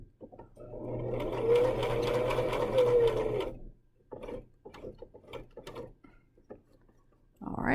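A sewing machine stitching a fabric square, a steady mechanical whirr for about three seconds, then short intermittent runs of stitches with pauses, fairly close.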